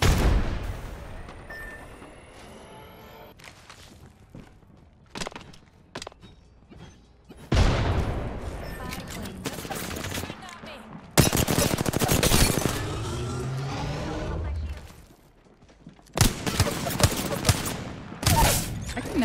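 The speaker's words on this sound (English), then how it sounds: "I'm getting shot by everyone" Gunfire in the Apex Legends video game, scattered shots early, then heavy bursts of rapid fire in several separate clusters, loud and close, with brief quieter gaps between them.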